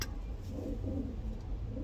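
Racing pigeons cooing in a loft, a soft low continuous cooing that rises and falls under steady background noise, fairly close, with no talking.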